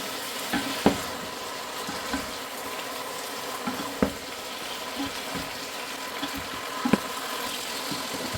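Spicy chicken with soy sauce and garlic sauce fries in a pan with a steady low sizzle, punctuated by several sharp clicks and knocks of stirring.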